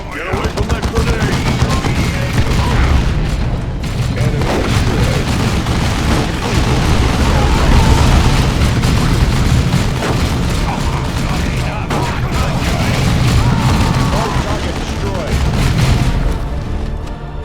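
Grenade blasts and gunfire in the Warhammer 40,000: Dawn of War II battle, heavy booms mixed with rapid bursts of shots, loud and dense for the whole stretch, with voices calling out over the fighting.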